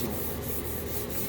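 Wood is hand-sanded with very fine grit paper to a mirror polish, giving a soft, close rubbing rasp with quick rhythmic strokes.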